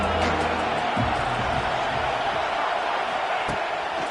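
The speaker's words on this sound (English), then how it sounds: "Big third down as the crowd gets behind this defense." Stadium crowd in the EA College Football 26 video game, Texas A&M vs Mississippi State, roars steadily on a big third down as a commentator talks over the din.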